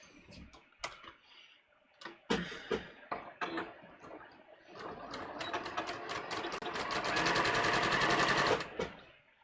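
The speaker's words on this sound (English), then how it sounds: "So I'm going to stitch this at a scant 1/4 inch" A sewing machine runs a scant quarter-inch French seam, opening with scattered separate clicks and short bursts before settling into a loud, steady run of rapid stitching that stops near the end.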